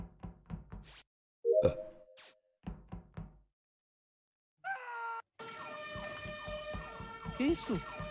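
During a game of Among Us, a voice imitates an ambulance siren with a wavering, rising wail in the last few seconds, after a series of sharp knocks and short vocal sounds.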